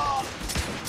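Gunfire in The Order: 1886, with a couple of sharp broadband shots in quick succession over a busy, noisy game background.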